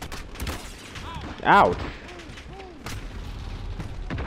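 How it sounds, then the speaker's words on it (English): Gunfire rattles in the Modern Warfare video game: scattered bursts of shots with one loud blast near the middle, while a player's voice exclaims and chatter carries underneath. "I tried to conceal myself from the machine guns"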